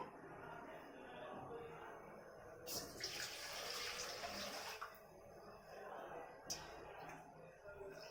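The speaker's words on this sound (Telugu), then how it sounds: "ఇటుపక్క కూడా మనము ఒక గిన్నె పెట్టేసి ఇందులో వాటర్ వేసేద్దాము" Water splashes in a couple of short, faint pours, as if streaming from a tap into a vessel, separated by quiet kitchen background.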